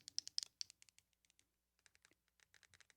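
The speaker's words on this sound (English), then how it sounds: "Buttons are very clicky." Buttons on a TalkPod A136Plus handheld radio being pressed, a quick run of crisp, clicky taps up close, quiet, in bursts with short pauses, no voices.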